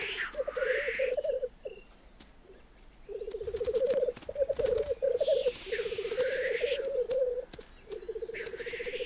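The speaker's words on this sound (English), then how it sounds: "The wheezing calls and plumped up feathers are all part of the display." Male birds give wheezing display calls at a courtship lek in the Scottish Highlands in autumn and winter. Repeated buzzy, rattling phrases come close together, with a faint rushing wheeze between bursts and no voices.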